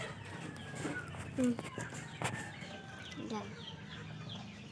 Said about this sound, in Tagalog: Yung sunod, yung manok namin yung makulit.